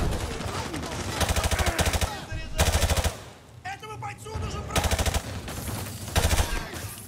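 Rapid automatic gunfire bursts in Call of Duty Modern Warfare 2 Remastered campaign gameplay, several loud clattering volleys separated by brief pauses, with a voice speaking underneath.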